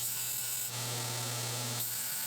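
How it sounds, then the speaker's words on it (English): A belt grinder, a step up from a 1x30 model, runs steadily with a constant buzzing motor hum and belt whine, rising briefly louder in the middle as work is pressed against it. "this is a really sweet grinder"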